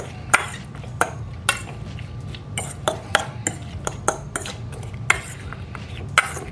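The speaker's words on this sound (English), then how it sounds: "And then all of the vegetables in there, and I'm just going to mix this all together" Vegetables being tossed with a citrus dressing in a bowl, with a steady run of sharp utensil clinks and taps against the dish over a soft wet stirring and a low background hum.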